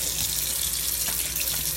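Tap water pours steadily into a sink during household cleaning, a continuous close hiss and splash with no voices.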